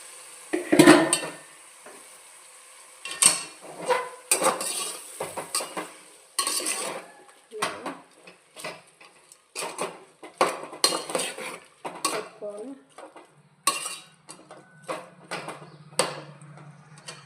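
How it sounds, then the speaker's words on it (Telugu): A meal maker (soya chunk) pulao mixture stirred in a cooking pot, with repeated clinks and scrapes of a metal spoon against the pot in irregular bursts, close and fairly loud, with a faint sizzle underneath. "మనం ముందుగా కలిపి పెట్టిన మిశ్రమాన్ని ఇందులో వేసేసుకోవాలి వేసుకొని కలుపుకోవాలి"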